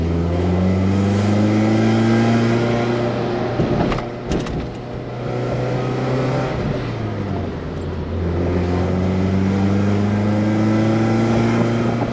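A rare old Mercedes engine, prone to hanging RPM, revs and pulls while being driven, a steady loud drone that rises and dips as it accelerates and shifts, with no talking over it.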